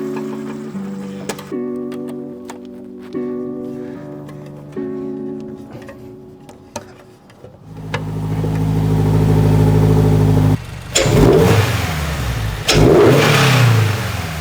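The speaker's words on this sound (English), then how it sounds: "Give some revs, Benno." A Toyota GR86 engine idles, then revs up loudly and holds a sustained roar with a couple of surges, close by.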